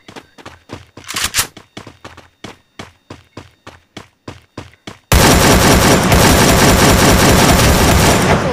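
Gunfire in the video game Free Fire: first about a dozen evenly spaced single shots, then a dense, loud sustained burst of automatic fire that runs to the end.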